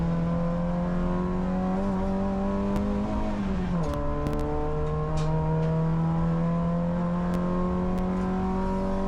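Peugeot 405 Mi16 BTCC replica race car on a circuit, its engine droning loud and close at a steady pitch, dipping and shifting mid-run as revs change, then holding a steady tone again.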